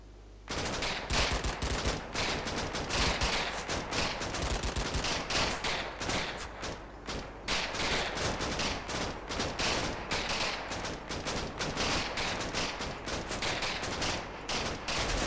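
Gunfire in the World War II Normandy strategy game Combat Mission: Battle for Normandy: dense, continuous bursts of rifle and machine-gun fire, loud and rapid, with no voices.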